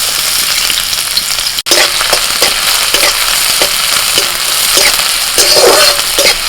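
Chopped onion frying in mustard oil in a wok, a loud steady sizzle with stirring scrapes throughout, broken once by a brief drop near the start.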